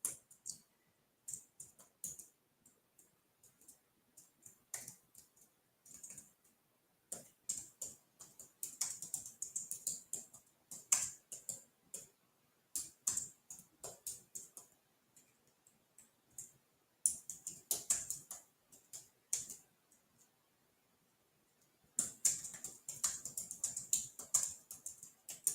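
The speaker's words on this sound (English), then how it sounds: "I start typing, I'm typing in the wrong spot" Fast, light clicking of typing on a computer keyboard at a card-making desk, coming in irregular bursts with short pauses, fairly quiet and close, with no talking.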